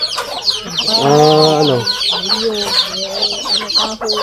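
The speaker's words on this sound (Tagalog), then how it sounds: "Ayan, ang dami mga manok. Tandang, mga yan oh. Inahin." Roosters and hens on a Philippine farm, with chicks around, cluck and call up close in a busy, overlapping run of squawks and calls, one longer drawn-out cry standing out near the start.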